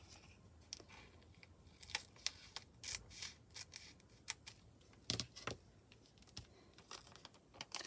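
Scissors snipping through paper for a junk journal specimen card, a series of close, crisp cuts in irregular bursts with short pauses between them, no talking.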